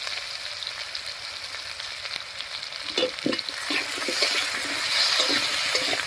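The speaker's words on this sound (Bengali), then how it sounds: "এবারে আলুগুলোকে একটু ভাজা ভাজা মতো করে নেব" Potatoes fry in a pan with salt and turmeric, a continuous sizzle broken by scraping stirs partway through, rising slightly toward the end.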